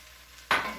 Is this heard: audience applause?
no